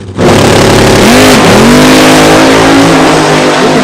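A Nostalgia Eliminator drag racing car launches hard at the starting line of the Funny Car Chaos Classic, its engine roaring loud and close with rising, sweeping revs that dip briefly before climbing again.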